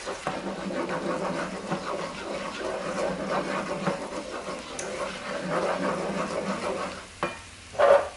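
Honey being stirred into a side dish in a pan with a steady low sizzle and soft scraping strokes throughout, then a brief clink near the end, with no voices.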